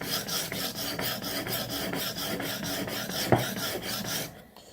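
A knife blade is drawn back and forth across a sharpening stone, pushed by the handle with finger pressure on the edge, making a steady rhythmic rasp of repeated strokes, close and alone, with one sharper scrape near the end before it stops.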